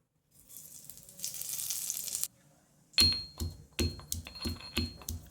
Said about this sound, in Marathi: थोडंसं तूप गरम झालं की याच्यामध्ये जिऱ्याची फोडणी घालूया.